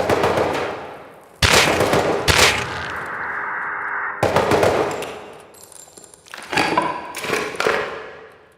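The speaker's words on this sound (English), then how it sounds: "watch out for it shooting through the sheet metal" Gunfire in the video game Rust inside a military tunnel, loud close bursts of automatic shots and sharp cracks, with ringing metallic echo and brief lulls between volleys.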